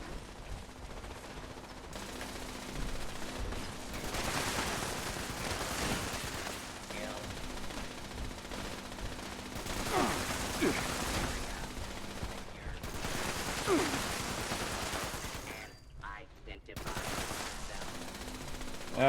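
Rapid automatic gunfire bursts rattle in Fallout 76 as turrets are cleared, repeated volleys over a steady game backdrop, mid-level and fairly close, with short pauses between runs.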